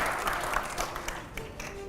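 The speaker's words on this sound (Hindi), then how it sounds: "अगले सवाल के लिए जोरदार तालियां हो" An audience bursts into applause for the next question at a televised political debate, a steady wash of many hands clapping together, moderately loud and sustained throughout.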